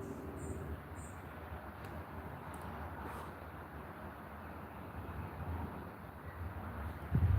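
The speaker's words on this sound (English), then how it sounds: "The wind keeps like blowing it out." Outdoor wind buffeting a microphone, a steady low rumbling roar that persists throughout with a louder gust at the end.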